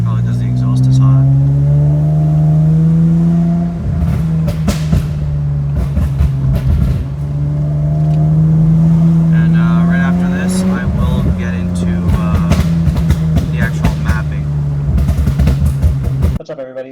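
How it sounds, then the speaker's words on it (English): A Honda Accord V6 engine with a pop-and-flame tune drones and shifts pitch while the hot exhaust crackles with repeated sharp pops, some in quick bursts. "oh, still popping a lot. Probably because the exhaust is hot."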